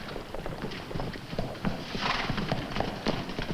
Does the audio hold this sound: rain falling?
no